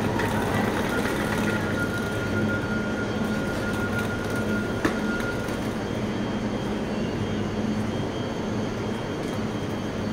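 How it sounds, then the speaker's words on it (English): A long train rumbles past steadily in Paris, a loud continuous rolling roar of wheels on rails with no voices, heard from close by. "So it's a long train though."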